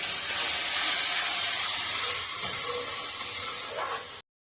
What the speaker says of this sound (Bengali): তারপরে মশলাটা ভালো করে ভাজা হবে।